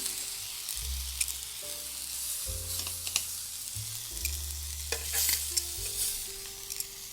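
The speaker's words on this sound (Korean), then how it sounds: "다시 한번 짜주면서 토마토도 굽겠습니다. 마늘 4쪽도 이렇게 구워주세요." Tomatoes and garlic cloves fry and are stirred in olive oil in a pan, giving a steady sizzle with scraping stirs throughout, over soft background music.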